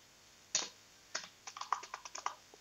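Typing on a computer keyboard while entering HTML table code: about a dozen close, crisp key clicks in an uneven rhythm, a lone tap first, then a quick burst, with no talking.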